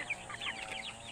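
Chickens cluck in short, overlapping calls nearby, a busy flock sound with no talking.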